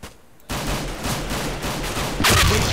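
Counter-Strike: Global Offensive gunfire bursts in quick succession, loud and dense after a quiet start, with a heavier blast near the end.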